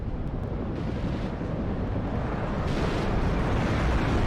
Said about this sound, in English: We got a napalm strike coming in.